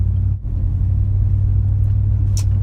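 A car driving along with a low, steady engine rumble heard from inside the cabin, a brief dip near the start and faint light knocks toward the end.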